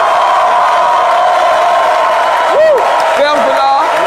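A live TV studio audience in Côte d'Ivoire greets Congolese rumba star Ferre Gola with loud, steady, dense applause and crowd noise, with a couple of rising whoops or shouts breaking through near the end.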